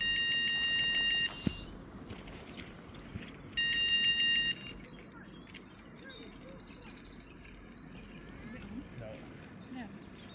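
Carp fishing bite alarm on a Welsh lake bank, giving two sustained electronic beeping bursts, with birdsong chirping across the background and people talking.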